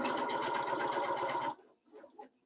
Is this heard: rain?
no